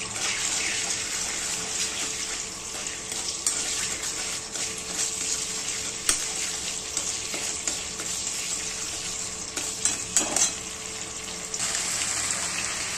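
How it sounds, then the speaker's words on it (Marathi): Ginger paste sizzling in hot oil with a pinch of salt, a steady broadband frying hiss that fills the whole stretch, with a few brief clinks and stirring bumps near the end. "आता थोडीशी तेलामध्ये चांगली फ्राय होऊन द्यायची"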